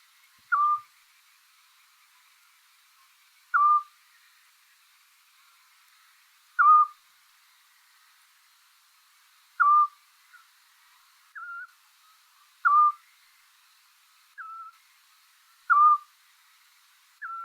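Little scops owl giving single soft whistled notes, repeated about every three seconds over seventeen seconds with a fainter answering note between, clear against quiet night background with a distant insect hiss.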